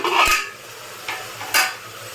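A fenugreek-leaf rice mixture for menthya bath fries in a pan under a soft background sizzle, with three distinct scraping strokes of a spoon stirring it, close and fairly loud, with no talking.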